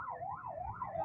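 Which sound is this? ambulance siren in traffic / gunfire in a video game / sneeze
ambulance siren in traffic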